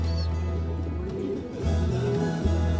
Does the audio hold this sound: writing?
no